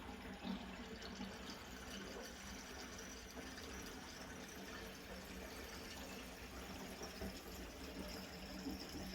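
Water drains through an unclogged mobile home kitchen sink, a faint, steady rushing and gurgling that runs continuously without pause.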